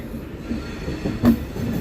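The 22485 Intercity Express pulls out of Ludhiana Junction with a steady close rumble of railcar wheels on track and a brief louder squeal or clank partway through, with no voices.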